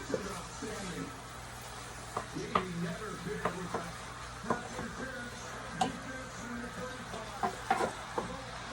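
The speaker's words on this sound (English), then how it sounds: "Just gonna let that brown really good." Food for baked ziti browns in a frying pan with a soft, steady sizzle broken by light clicks of stirring, while someone talks over it.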